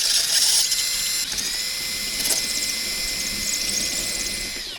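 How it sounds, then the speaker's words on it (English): A steady high-pitched whine of a 5mm drill bit boring continuously on a Drascombe Lugger boat, with a brief change in pitch partway through, no voices. "to try with a 5mm drill bit"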